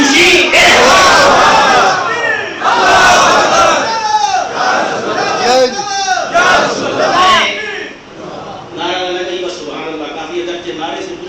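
A large crowd at a religious Milad gathering shouts slogans in loud, surging unison, overlapping bursts of many voices rising and falling close by throughout.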